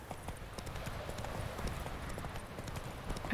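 Roach, the horse in The Witcher 3, clip-clops along with a steady run of hoof strikes, close and moderately loud over low game ambience, with no talk.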